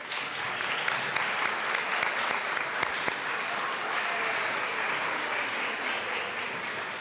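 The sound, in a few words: applause in the Colorado House for Denver Zoo keepers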